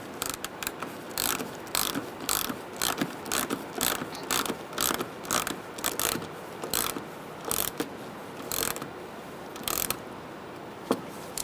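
A ratchet tightens a lower grille fastener on a 2010-2013 Kia Soul, with a steady run of close, loud clicking bursts repeating in quick rhythm through the whole stretch.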